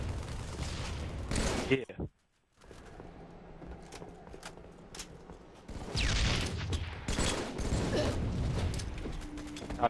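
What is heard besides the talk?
gunfire in the video game Halo 3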